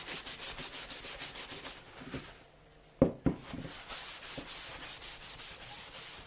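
Cloth rubbing repeatedly across a wooden sign to wipe excess oil stain off its surface, a soft rhythmic scrubbing close up, with a brief pause and a couple of sharp knocks midway.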